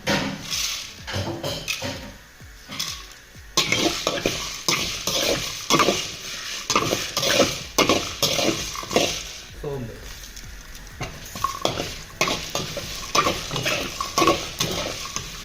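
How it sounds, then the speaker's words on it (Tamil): Garlic fries with spices in a pan for a country chicken curry masala, a spoon scraping and clattering in a fast, steady stirring rhythm over a low sizzle. "வந்து பூண்டு வறுத்துக்கலாம் இந்த பூண்டு கூடவே காஞ்ச தான் சேர்த்துக்கலாம்"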